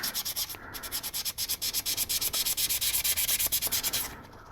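A sanding sponge rubbed rapidly back and forth over a resin figure, a close, loud, steady rasping scrub in quick regular strokes with a brief pause before it stops.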